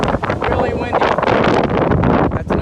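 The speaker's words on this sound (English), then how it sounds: "It's a lot of wind. A lot of wind." Strong storm wind roars steadily and loudly into the microphone during a tornado warning, gusting and buffeting throughout with no pauses.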